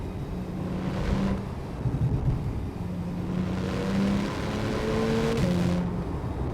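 A Porsche 911 Turbo S (991.1) with turbocharged engine and four-wheel drive accelerating, a continuous loud engine drone with tonal shifts as the revs climb and drop, steady throughout and fairly close.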